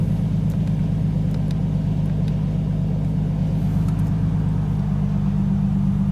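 A Nissan 370Z engine idles steadily while warming up after a throttle body and MAF sensor cleaning, a loud, close, continuous low rumble with no revving and no talk.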